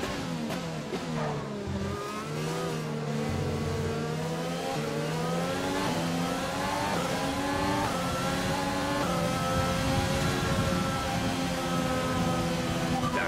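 An F1 race car engine in the F1 2020 video game at the Japan race, a loud continuous high-revving whine with rising and falling pitch through gear changes, alone and close throughout.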